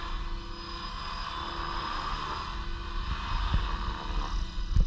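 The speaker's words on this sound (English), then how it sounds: "Fun little heli." A Blade 360CFX RC helicopter on a 3S battery flies pirouettes, giving a steady, moderately loud rotor and motor whir with gentle swells in intensity and no talking.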